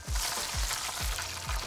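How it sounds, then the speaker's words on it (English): Chicken wings deep-frying in hot oil for Chinese restaurant-style salt and pepper wings, a close, steady sizzle and crackle with a few soft low thups spaced through the short stretch. "After just 2 minutes of frying the wings, we can take them out."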